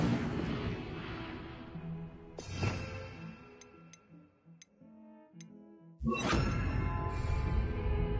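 Incendio fire spell cast in the Hogwarts Legacy video game, a loud burst with a whoosh at around two and a half seconds, a few soft chimes, then a second strong blast at six seconds under a game music bed.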